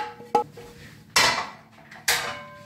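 Onions being stirred together in a large casserole pot for beef bourguignon, giving three sharp metallic clanks and scrapes of utensil against pot, each trailing off, with no talk.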